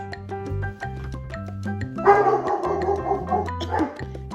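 A dog barks repeatedly at balloons in short, sharp yips, mixed with whimpering, over a looping electronic melody playing in the background.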